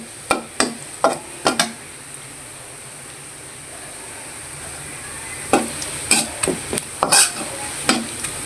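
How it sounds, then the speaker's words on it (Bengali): Onion frying in a pan as the base of a koi fish curry with potato, bori and eggplant, a steady soft sizzle broken by several sharp clinks and scrapes of a spatula stirring, in clusters at the start and end. "এখন আমি পেঁয়াজটা দিয়েছি, পেঁয়াজটা আমি ভেজে আমি ভাজনা করে নিব"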